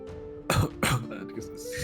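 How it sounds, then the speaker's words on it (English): A character named Saberwolf gives a couple of short, rough coughs close by, two distinct bursts about half a second apart with quieter throat sounds trailing after. "coughs a little bit"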